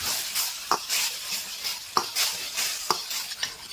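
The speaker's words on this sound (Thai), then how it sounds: "เราก็นำแป้งมันที่เราละลายน้ำไว้ลงมา แล้วเราก็ผัดไปเรื่อยๆจนกว่าเขาจะเข้มข้น" Shiitake mushrooms stir-fried in oyster sauce as a starch slurry thickens the sauce: a steady sizzle and hiss with periodic sharp clicks of a spatula scraping the pan, no voices.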